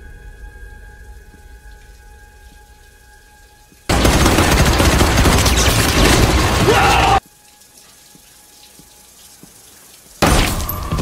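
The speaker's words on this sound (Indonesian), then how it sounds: "Paul langsung memberondong si pelaku hingga tewas saat itu juga" Rapid automatic gunfire from the action film Death Wish, heard as a loud, dense sustained burst of about three seconds, then a quieter pause, then another burst starting near the end.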